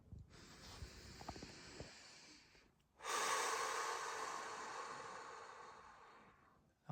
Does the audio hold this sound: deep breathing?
yes